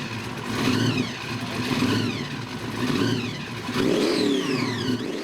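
A car's engine revving at a car show, with repeated rising and falling revs cycling over a steady rumble, fairly close, with no talk.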